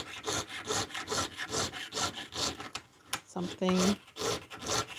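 Copper is cut with a hand saw in steady back-and-forth rasping strokes, close and rhythmic, pausing briefly as a voice speaks once, then resuming.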